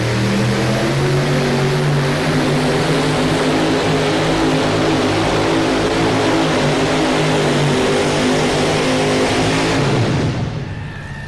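A modified pulling tractor powered by three naturally aspirated Ford engines roars steadily at full load during a 1999 NFMS pull, loud and sustained for about ten seconds before the tone drops and fades at the end.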